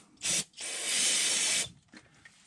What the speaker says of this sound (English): I'm gonna take a little bit of brake parts cleaner, and I like to just clean everything up.